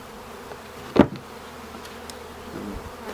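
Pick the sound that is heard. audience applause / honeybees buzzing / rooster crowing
honeybees buzzing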